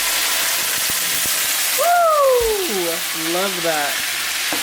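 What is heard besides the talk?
wine added to hot pan with salmon, sizzling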